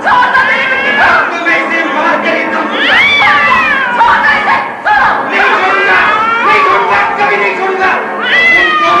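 A cat in a Hindi cassette fairy-tale drama meows repeatedly over several seconds, its rising cries tangled with excited voices and crowd-like clamor.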